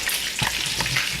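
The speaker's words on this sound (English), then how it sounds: "These are frying up nice." Meatballs frying in a pan: a steady close sizzle with soft spattering pops, heard alone.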